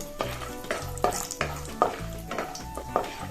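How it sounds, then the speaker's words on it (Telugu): Peanuts and cashews frying in peanut oil as a tempering for gongura pulihora, a soft sizzle broken by about six evenly spaced scraping stirs of a spoon against the pan. "జీడిపప్పు వేరుశనగలు దోరగా వేగాక మిగతావన్నీ కూడా వేసేసుకుందాం"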